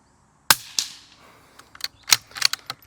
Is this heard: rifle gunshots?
yes